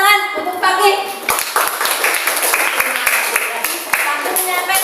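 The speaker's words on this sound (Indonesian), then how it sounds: "Tepuk tangan untuk Kaki." Students in a classroom clap for a classmate after a lesson on Pancasila, quick scattered claps close by that follow a short spoken bit and keep going in a loose rhythm.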